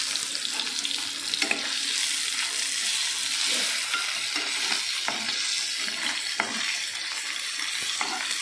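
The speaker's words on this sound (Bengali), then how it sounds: "এদিকে মাছটাও ভাজা হয়ে যাচ্ছে" Fish, apparently parshe, frying in a pan with oil, giving a steady dense hiss of sizzling across the whole stretch. Occasional soft clicks and scrapes of stirring rise out of it, with no talking.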